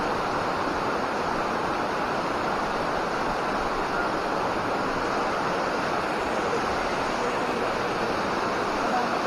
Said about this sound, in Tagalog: Bumabagsak yung tubig dito papunta sa baba.